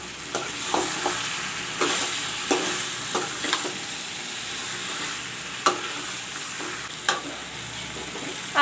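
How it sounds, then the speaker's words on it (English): Mutton and masala frying in a pan with fried potatoes added, a steady sizzle with intermittent scraping and clinking from stirring, no voices. "Now I will put in the fried potatoes."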